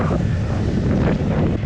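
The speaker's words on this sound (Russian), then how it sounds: "Ветер действительно сильный, но не холодно." Strong wind buffets the microphone on Paracas beach in Peru, a loud, continuous low roar and rumble with gusty fluctuations and no speech.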